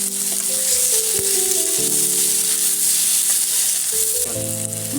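Kashmiri chili powder frying in a hot pan for a papad curry, a steady loud sizzle filling the whole stretch, with a faint tonal hum underneath and no voices.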